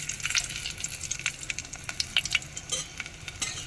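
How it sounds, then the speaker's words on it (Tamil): Mustard seeds and dried red chillies fry in hot oil, giving a close, crackling sizzle with rapid irregular pops and spits scattered over a continuous hiss, with no voices. "கடுகு நல்லா பொட்டிருச்சு பாருங்கள்."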